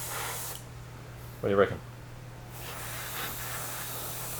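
An airbrush sprays paint onto a replica RC10GX Stealth body with a steady, soft hiss heard throughout, while people talk briefly over it.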